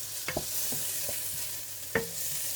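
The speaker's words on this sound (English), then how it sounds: "straight in goes the onion, and you give that a good old stir." Onion sizzles in hot oil in a pan while a utensil scrapes and stirs it in a few sharp clinks against the steady frying hiss, with no speech.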